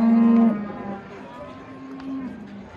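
A dairy cow at a livestock market lets out a loud, close moo at the start, then a second, lower moo follows under a busy market background.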